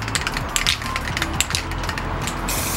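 A Krylon spray paint can in Sun Yellow is shaken, giving a fast, loud rattling clatter of the mixing ball in rapid repeated bursts, close up, with no talking.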